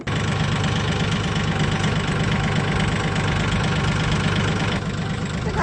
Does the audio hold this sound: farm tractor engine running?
yes